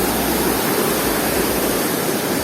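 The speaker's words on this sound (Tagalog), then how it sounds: "pakinig nyo ga? Ang lakas ng agos ng tubig" A strong current at a hidden waterfall in Baco, Oriental Mindoro, makes a loud, dense, unbroken roar of rushing water close by, with no voices over it.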